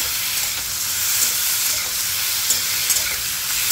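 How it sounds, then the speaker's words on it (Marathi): Green chillies and potatoes frying in hot oil in a pan for sabudana khichdi, a steady close sizzle and hiss with faint stirring clicks, no talking. "हिरवी मिरची पण या बटाट्याबरोबर आपल्याला थोडा वेळ फ्राय करून घ्यायची आहे"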